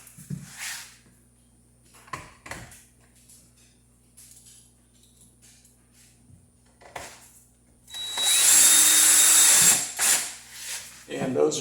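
A power drill drives self-tapping screws into a vinyl window frame during an LG 14000 BTU window air conditioner installation, with a loud two-second whir after scattered clicks and handling noises; speech is present.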